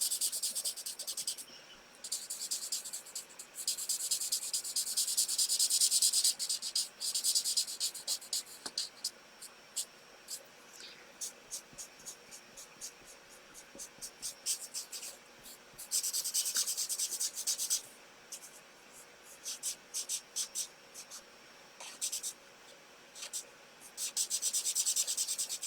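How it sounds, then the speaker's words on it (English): Scissors snip and slice through card for a poinsettia tag card: crisp, scratchy cutting sounds come in repeated close bursts with short pauses over a quiet background. "I tend to just use my scissors and just snip that out"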